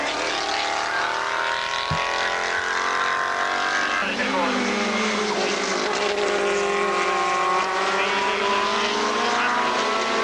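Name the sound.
TVR and Mini race cars on track, motorsport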